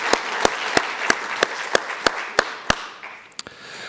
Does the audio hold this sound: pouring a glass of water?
no